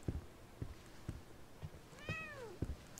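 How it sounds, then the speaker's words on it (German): A cat meows once in The Medium video game, a clear, rising-and-falling cry set among soft, repeated thumping footsteps and low ambient noise. "Okay, es ist keine schwarze Katze."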